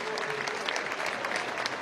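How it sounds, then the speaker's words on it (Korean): Democratic Party lawmakers give the president a dense, sustained round of applause and cheers during his policy address, loud and continuous before it fades at the end. "민주당은 이 대통령을 박수와 환호로 맞았습니다"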